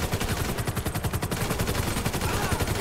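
Assault rifle fire in Grand Theft Auto V, a loud, steady rapid stream of close gunshots hammering on without pause for the whole stretch, with no talking over it.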